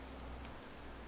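Steady, faint rain falls in the video game Farming Simulator 22, a soft continuous hiss with a low rumble beneath and no voices.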